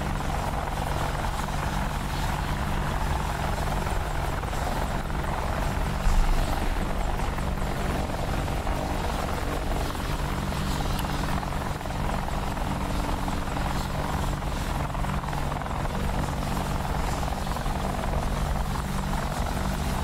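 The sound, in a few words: AH-64D Apache helicopter rotor in video game DCS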